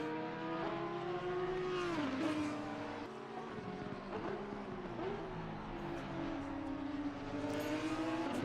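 GT3 race cars on track at Mount Panorama in Assetto Corsa, engines droning and revving in steady high-pitched tones that rise and dip through gear changes, loud and continuous.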